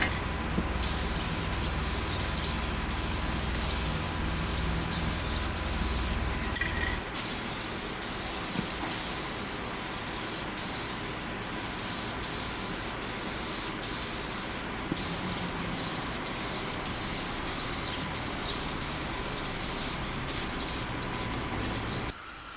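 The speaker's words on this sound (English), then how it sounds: "Be very light on it for the first coat so that the other coats can grab onto that light first coat." Clear coat sprayed onto rebuilt BMW M50 engine parts gives a continuous airy hiss in short bursts with brief pauses between passes, close and steady with no talking.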